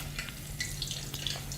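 Wontons sizzle and crackle steadily in hot frying oil under a low hum, with a few sharp spits standing out, close by, and nobody talks.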